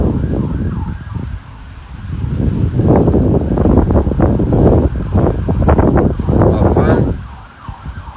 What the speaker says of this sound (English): around here there's sirens all the time.